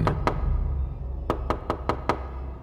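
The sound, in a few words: knocking on a door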